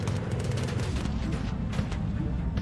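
Bomber Crew gunners on a bomber keep up sustained fire, a dense rumbling clatter of shots over the drone of aircraft engines, loud and continuous without pause for the whole stretch.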